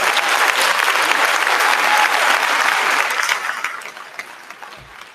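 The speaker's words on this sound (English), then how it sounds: "yes, we're gonna take a round of applause." Audience applause at a county band showcase event, a loud, dense wash of clapping that holds steady, then thins and fades out over the last couple of seconds.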